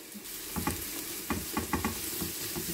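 Half an onion sizzles in a teaspoon of hot oil in a frying pan, a steady close crackle broken by several sharp scraping stirs.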